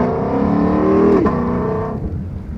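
A 2020+ Ford Mustang Shelby GT500 with an MBRP X-pipe accelerates at partial throttle, a loud, close, rising exhaust drone that swells, then drops away as it shifts.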